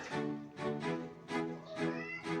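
Pet cats waiting for breakfast meow repeatedly, close and clear, about five drawn-out tonal cries in an uneven rhythm with no talking.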